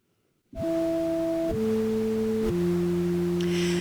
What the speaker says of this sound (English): we're going to add a little bit of noise to it